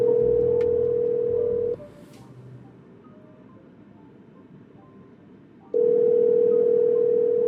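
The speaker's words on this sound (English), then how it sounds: "It's ringing." A steady telephone ringback tone sounds, pauses for a few seconds of quiet line hiss, then rings again, loud and close.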